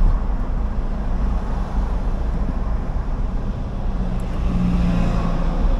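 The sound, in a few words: road traffic on the Skyway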